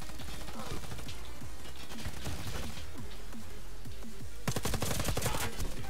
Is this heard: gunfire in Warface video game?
yes